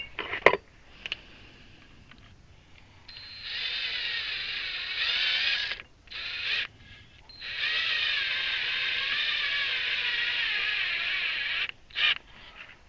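Ratchet mechanism on a homemade DIY bee hive lifter being tightened, with a few clicks at the start, then long sustained bursts of rapid ratcheting, close and fairly loud, briefly pausing between runs.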